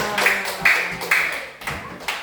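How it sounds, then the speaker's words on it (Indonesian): A primary school class claps together in a classroom, several distinct bursts of group clapping in an uneven rhythm, fairly close and loud, with faint voices in the background. "sekarang kita beri tepuk tangan"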